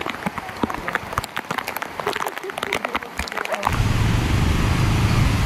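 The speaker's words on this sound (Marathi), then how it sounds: "खूप पाऊस पडतोय" Heavy Mumbai rain during a ride begins after some scattered clatter and taps, then becomes a loud, steady downpour hiss for the rest of the stretch.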